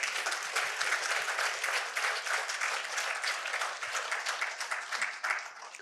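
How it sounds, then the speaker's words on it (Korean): An audience at a university lecture claps together, a dense, sustained burst of applause with crisp individual claps standing out, fairly close and steady throughout. "박수 한번 치십시오."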